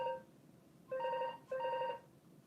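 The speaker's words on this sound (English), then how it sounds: "It's the phone." A telephone rings in bursts: a short ring, a pause, then two more electronic trilling rings, clear and moderately loud in a quiet room.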